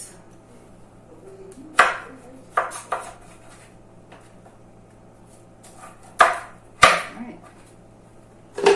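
A knife chops butternut squash into dice on a cutting board, with sharp, separate thuds spaced irregularly over a quiet kitchen hum, several close together near the end.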